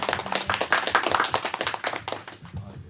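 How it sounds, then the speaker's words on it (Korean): A church congregation claps together in a dense, rapid, slightly uneven rhythm that carries on for a few seconds before thinning out. "박수로 주님께 영광 올려드리겠습니다"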